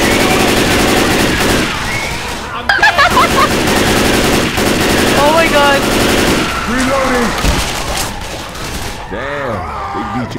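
Rapid automatic gunfire, including an M16, rattles in Left 4 Dead 2 on the Dead Center campaign, loud bursts stacking with other shots, groans and voices in the mix.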